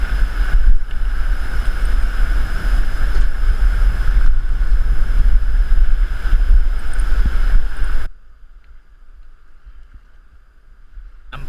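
Strong wind roars and buffets a microphone outdoors at a river during fly fishing in spring run-off. The loud, low, rumbling gusts last for about eight seconds, then drop away sharply to quieter background noise.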